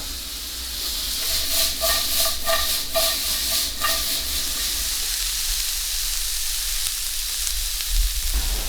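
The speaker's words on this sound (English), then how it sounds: "Now that these mushroom and onion have been cooking for a little bit" Mushrooms and onion sizzle in olive oil in a skillet, a steady close hiss with a short run of rhythmic clicks and scrapes early on, then a quieter continuing fry.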